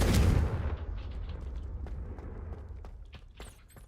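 A Confringo spell explosion in Hogwarts Legacy bursts with a loud, heavy boom at the start, then rumbles and decays over several seconds, with scattered crackling debris pops after.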